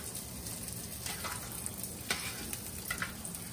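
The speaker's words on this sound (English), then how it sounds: "We'll let the bacon cook," Bacon sizzles and crackles in a pan, a steady close frying hiss with small scattered pops and a few faint scraping sounds.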